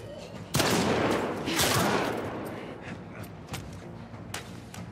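Bursts of gunfire in The Last of Us Part 2 Remastered, a loud close volley starting abruptly and swelling into a second heavy burst before thinning to scattered distant shots.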